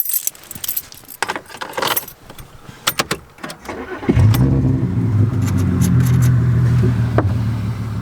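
Keys jangle and clink in several bursts, then a Volkswagen Passat R36 with a straight-pipe exhaust starts up and settles into a steady, throaty idle.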